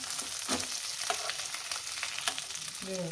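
Seer fish (anjal) pieces frying on a tawa: a continuous crackling sizzle of hot oil with small pops and light scraping of a utensil, close and steady throughout.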